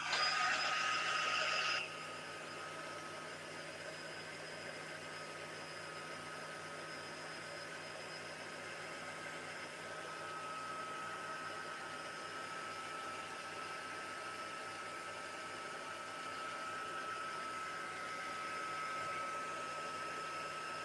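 A heat tool blows steadily over a mixed-media alcohol ink painting, a continuous airy whoosh and hum, loudest in the first two seconds and then holding an even, close drone for the rest.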